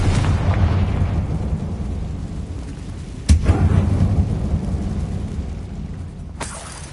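Spell explosions from Bombarda and Confringo in the video game Hogwarts Legacy, set in a closed mine, form a loud, deep, rumbling roar with two sharp bursts partway through, and no speech.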